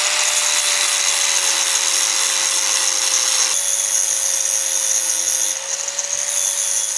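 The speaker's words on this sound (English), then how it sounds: "So I'm just going to go over it with a grinder" A handheld grinder polishes massive steel lug screws for a wooden boat rebuild, giving a steady, loud high-pitched whine with constant abrasive hiss that runs unbroken throughout, briefly shifting tone midway.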